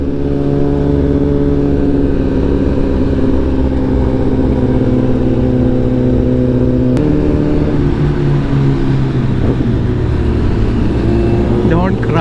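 A 2011 Suzuki Gixxer motorcycle on a group ride, its engine droning loud and steady with harmonic whine, pitch shifting as the rider changes speed, with other bikes nearby.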